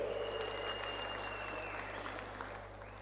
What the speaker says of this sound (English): Please give a huge round of applause for the release of this book